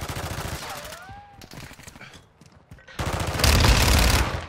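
Rapid gunfire bursts in the shooter game Modern Warfare II, close and loud, with a lull in the middle before a heavy volley returns, and a voice is heard briefly among the shots.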